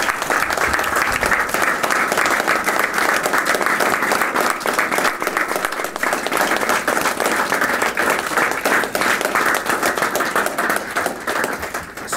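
A seated audience at a community question-time event breaks into sustained applause welcoming a family, dense steady clapping from many hands lasting over twelve seconds at even loudness with no talk above it.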